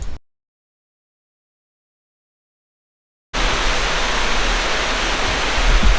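Steady broadband roar of a waterfall on the Needle hike in Rarotonga, loud and continuous after a long silent gap at the start.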